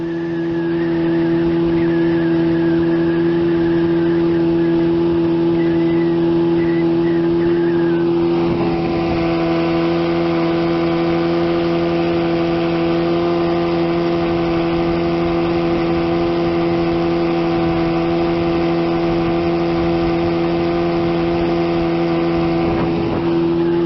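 A 1975 Evinrude 25 HP outboard motor runs continuously with a steady, loud buzzing drone and a brief shift in pitch partway through, the engine heard alone and up close.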